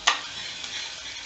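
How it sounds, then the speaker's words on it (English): Garlic frying in a pan until browned, an even close hiss of sizzling oil opened by a brief sharp clatter, short and moderately loud with no voices. "now into this I am going to add this garlic. I am going to cook it till it becomes brown."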